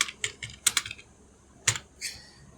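Keystrokes on a computer keyboard while writing C++ code, a few quick clusters of taps separated by pauses, close and fairly quiet, with no talking.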